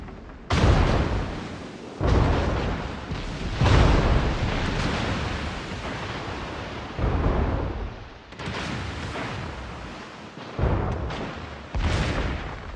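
Naval gunfire from battleships in World of Warships booms repeatedly, with roughly six loud, close, rumbling salvos rolling into one another over a dense roar of continuous battle noise.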